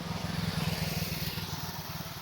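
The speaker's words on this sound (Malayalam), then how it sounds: "ഒരു ബൈക്ക് പോയി ഗായ്സ്," A motorcycle engine rumbles steadily up close, its low throbbing pulse running throughout with no one talking.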